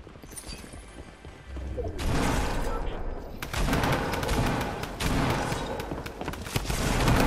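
Rapid bursts of drum gun fire in a Fortnite-style match crackle through several dense, loud stretches, with brief lulls between the volleys and a voice talking over the shooting.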